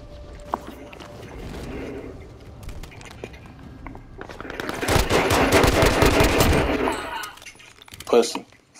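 Automatic pistol gunfire in Call of Duty Warzone, a dense burst of rapid shots in the middle of the clip with quieter game noise and a voice around it, then a short sharp report near the end.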